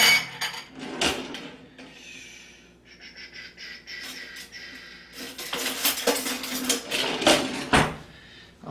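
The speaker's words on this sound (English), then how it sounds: "I'm gonna grab a different knife." Metal kitchen knives and utensils clink and clatter in a home kitchen as a different blade is taken up, with soft breathing and handling noises between the sharper scattered clanks.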